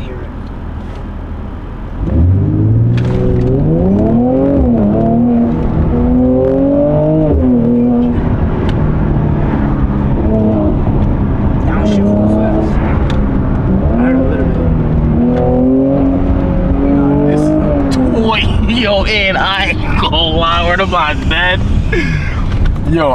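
Mercedes-AMG C43 engine revving in short blips of the throttle, with rising and falling pitch over a steady rumble, close and loud, with wind noise and some chatter near the end.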